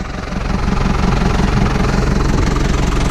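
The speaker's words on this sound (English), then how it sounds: "so that's our new to us tractor." A Case JX85 tractor's engine idles nearby with a steady low rumble and a regular throbbing pulse, running alone and continuously.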